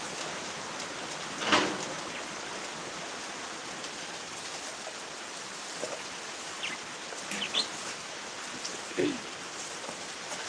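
Rain falling steadily outdoors, a soft even hiss of drops with a few brief louder knocks and splashes, fairly faint and constant with no voices.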